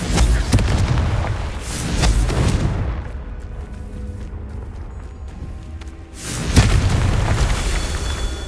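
The Confringo blasting spell explodes in Hogwarts Legacy with a deep, loud boom and a rolling burst. After a quieter stretch a second heavy blast hits, and rumble trails off behind each one.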